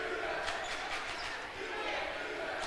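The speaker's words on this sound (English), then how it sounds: "Big crowd, as you might expect" Crowd at a high school boys basketball game, Manchester at Orrville, a fairly faint, steady murmur of many voices with scattered sharper shouts and squeaks throughout.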